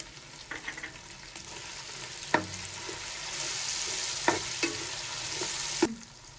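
Whole cloves and cinnamon sticks dropped into hot oil for beef yakhni pulao, a soft sizzle broken by a few sharp clinks and taps, the frying growing louder midway.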